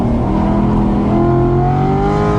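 An LS3 V8-swapped ND Miata accelerates hard out of a track corner, its loud engine note climbing steadily in pitch with dense rumbling harmonics throughout, no talk.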